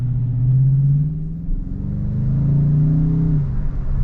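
A 2023 Dodge Challenger R/T's deep V8 engine rumbles and burbles through its opened active exhaust, its low drone rising and falling slightly as it revs nearby.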